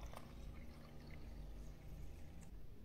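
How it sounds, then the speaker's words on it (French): White vinegar poured steadily into a bottle, a continuous soft liquid trickle running for a few seconds with no talking. "tu viens compléter la bouteille avec du vinaigre blanc"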